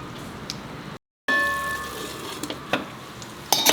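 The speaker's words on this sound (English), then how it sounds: "You have to keep on stirring it in between." Ridge gourd sizzles steadily in a pan over a slow flame, with scraping stirs and a few louder clatters of the spoon against the pan.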